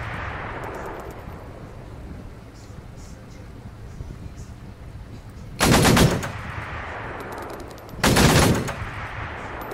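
Gunfire in the military shooter ArmA 3, two loud bursts of rapid automatic fire over steady background game noise, with voices talking throughout.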